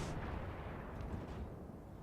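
Ship guns firing in a naval battle game, a continuous low rumbling boom of distant artillery with a faint muffled burst near the start, heavy and steady rather than sharp.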